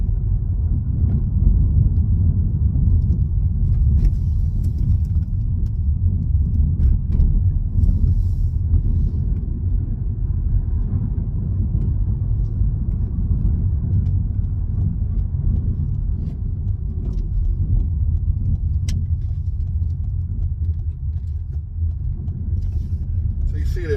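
A car drives around the Dogs Trust roundabout, heard from inside as a steady, loud low road and engine rumble that continues without a break, with a voice talking over it.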